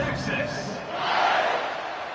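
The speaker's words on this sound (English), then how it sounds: "this crowd is buzzing after that last score" A stadium crowd at a Texas vs South Carolina college football game keeps up a loud, steady roar after a kickoff return touchdown, swelling midway through the short stretch.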